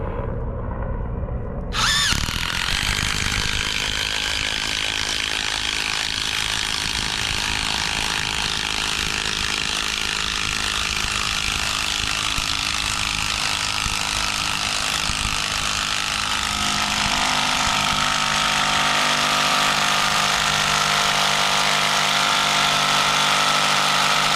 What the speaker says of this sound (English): One of these knotty roots. Drive this lag.